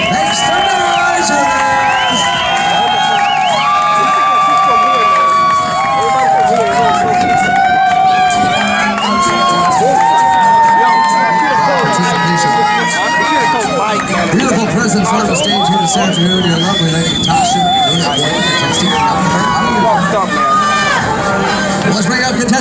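A crowd at a bikini contest at a Hooters in Sanford, Florida, cheers, whistles and shouts continuously at loud, steady strength, with excited voices throughout.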